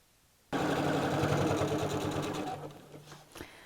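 A sewing machine starts abruptly and runs at steady speed with a fast mechanical whir, then slows and stops with a few clicks at the end.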